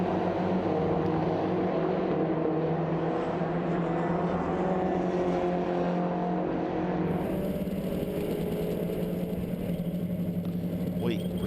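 Mini Challenge race cars battle at Silverstone GP, engines droning steadily with a shift in tone partway through, under continuous commentary.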